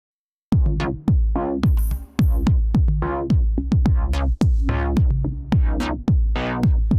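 A heavy synth bass line with rhythmic wobbling sweeps from The Drop resonant filter plugin, pulsing in quick repeated notes alongside a beat made in Maschine, loud and continuous.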